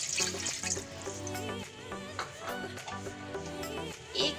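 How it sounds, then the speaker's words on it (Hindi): A glass of water poured into golden-brown roasted vermicelli (savaiya) in a pan, giving a splashing gush that runs for several seconds over steady background music. "सवैया गोल्डन ब्राउन होने के बाद अब इसमें 1 गिलास पानी डालेंगे"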